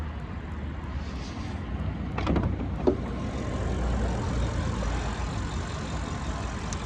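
A quiet, steady low rumble of an Audi S8 Quattro V8 idling, sober and muted, with a few faint clicks and a brief sharp tap partway through, no talking.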